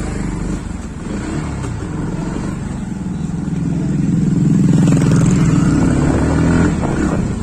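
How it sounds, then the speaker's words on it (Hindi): Dense road traffic rush of cars and motorcycles, engines droning and revving continuously close by and swelling louder midway through, with no talking. "यहाँ पे देखे भाई साहब ट्रैफिक का रश"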